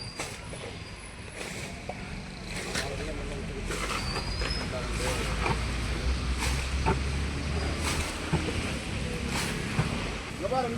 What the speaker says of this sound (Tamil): படகு கிளம்புது.